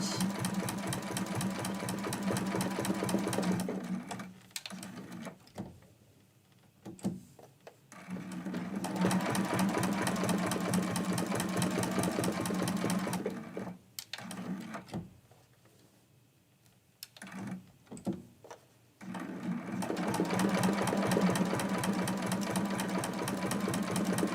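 A domestic sewing machine runs in fast, steady bursts while free-motion quilting a Christmas quilt-as-you-go block, each run stopping briefly before it starts up again.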